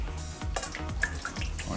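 Liquid egg whites pour in a steady stream into a container on a kitchen food scale, making a soft, continuous splashing and trickling sound close by.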